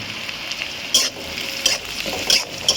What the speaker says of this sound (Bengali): আমি এবার একটু নেড়ে নিচ্ছি, রসুনটা একটু মানে লালচে হওয়ার জন্য।